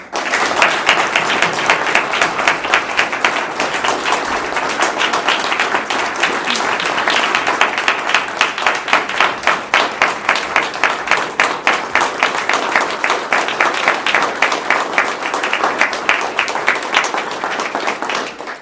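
An audience applauds military veterans at a state bar council meeting, with steady, sustained clapping filling the room for the whole stretch, dense and even with no voices over it.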